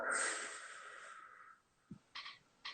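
A deep breath let out in one long, loud, airy exhale that tapers off over about a second and a half, followed by a few faint breathy puffs in a quiet room.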